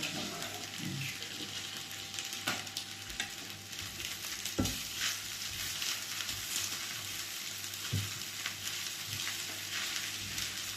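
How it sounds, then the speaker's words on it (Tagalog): Two eggs frying in a pan with garlic fried rice, giving a steady broadband sizzle with repeated scraping and stirring clicks from a utensil, close and continuous with no talk. "Lagyan po natin ng itlog ng ating sinangag."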